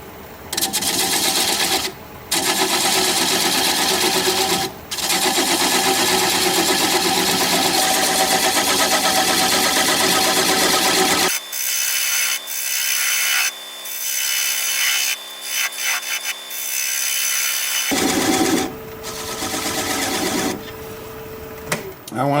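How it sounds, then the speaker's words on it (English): Wood lathe spinning a driftwood piece at about 500 RPM as a 3/8 inch bowl gouge cuts away the tenon: a steady, loud scraping hum that runs continuously, with the cutting tone shifting midway before resuming. "We're going to start at about 500 RPM with a 3/8 inch bowl gouge and commence to removing that tenon"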